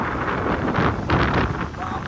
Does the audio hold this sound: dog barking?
no